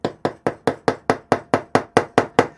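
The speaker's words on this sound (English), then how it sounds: "I'm going to use the screwdriver in the slot and just carefully tap it with a hammer." A hammer taps a screwdriver set in a stuck screw's slot on a Stanley No. 9 1/2 block plane, about 130 years old: eleven sharp, evenly spaced metallic strikes, close and moderately loud, with no talk.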